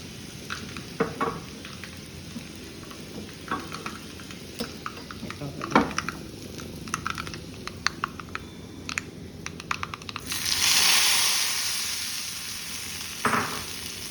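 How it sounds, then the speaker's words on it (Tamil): Dry frying on low heat for vazhaikkai chips or rasam, a soft continuous sizzle with scattered sharp clicks and scrapes of stirring, one louder hissing swell near the end. "இது பாட்டுக்கு ட்ரை ஃப்ரை வந்து சிம்மில் மெதுவாக வரணும்."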